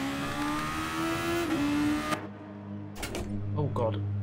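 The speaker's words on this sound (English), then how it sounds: "This car is bloody loud." A Super Formula race car in Gran Turismo Sport at Monza, its engine loud and droning with a rising pitch. It cuts off abruptly midway, then short bursts of engine and gear noise follow, with a voice talking over them.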